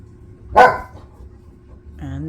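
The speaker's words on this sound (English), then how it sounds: "Don't mind the noises of my dog bothering my cat." A pet dog gives one short, sharp bark while pestering a cat indoors, followed by quieter stirring and a brief whine-like tone near the end.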